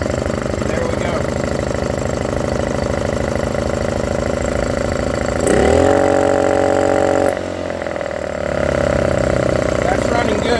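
A Honda EU2000 portable generator engine runs steadily nearby, a loud buzzing drone that briefly rises in pitch, then dips and settles back into its even hum.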